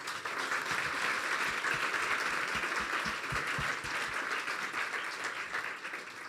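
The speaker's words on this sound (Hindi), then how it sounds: "तो अपने लिए तालियां बजा दें।" A church congregation claps during a sermon in a sustained, even round of applause that holds at a fairly constant level throughout.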